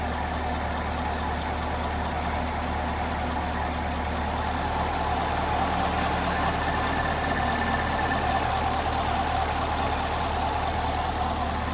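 A Chevrolet Camaro SS V8 runs steadily at idle, a continuous low engine rumble with a faint mechanical tick, close and even throughout with no talking.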